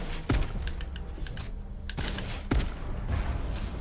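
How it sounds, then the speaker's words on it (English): Gunfire in the open-world shooter game Crackdown 3: sharp shots and bursts crackle over a dense game soundscape, with a couple of louder close thumps standing out. "I don't even know where the gunshots."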